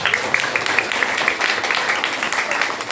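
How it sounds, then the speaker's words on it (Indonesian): A crowd applauds the santri at a humorous Sundanese religious sermon, giving a steady wash of clapping throughout with voices over it. "Tepuk tangan untuk santri."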